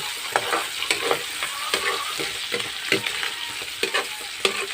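Bitter gourd (ampalaya) being stir-fried for a breakfast dish, a loud close sizzle broken by regular scraping spatula strokes against the pan, roughly one or two per second.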